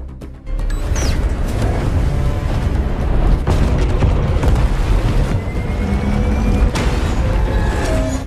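A deep, rumbling bomb explosion in a film with a sharp onset, followed by sustained roaring debris and low booming that fills the whole stretch, loud and cinematic.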